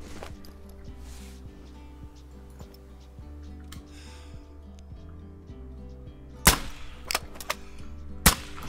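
A .45 air rifle fired at a wolf while varmint hunting in Call of the Wild: two sharp, loud cracks near the end, standing out over a quiet bed of regular ticking and soft ambience.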